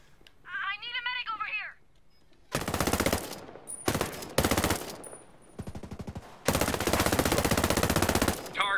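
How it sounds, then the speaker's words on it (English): Loud bursts of automatic gunfire in Ghost Recon Breakpoint, several separate volleys, the last long and sustained, after a brief meow-like cry at the start. "Hostiles are shooting."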